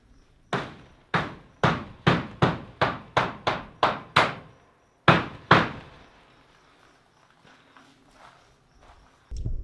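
About a dozen sharp hammer blows ring out in a steady rhythm, close and loud, while building a double-wide cattle panel greenhouse, then pause before two more strikes and quiet clatter.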